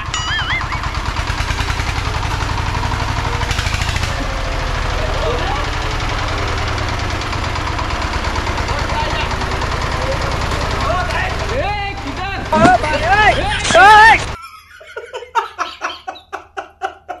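A worn-out old tractor engine idles with a knocking, chugging rhythm close by, people talking over it, then cuts out near the end, leaving faint birdsong and a few sputters.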